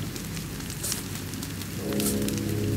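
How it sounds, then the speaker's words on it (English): Rain falling in The Walking Dead video game, a soft steady patter with a low hum rising near the end, no speech. "This rain will turn to sleet."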